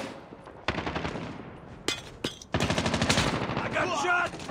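Rapid bursts of automatic gunfire from a Call of Duty match on the Nuketown 2 map, loud and close, with dense rattling volleys after short gaps and game voices faintly mixed in.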